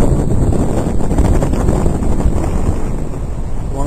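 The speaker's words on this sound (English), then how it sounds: "It's a bit windy at the moment." Strong wind gusts blast across the microphone at Shell Beach while sailing, boats moored nearby, making a loud, continuous, rough roar with no talking.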